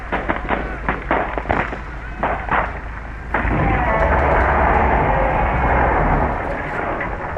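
Gunfire bursts out in the Call of the Sea game: a string of sharp, rapid reports, then a loud, sustained roaring rush that fills the rest of the moment.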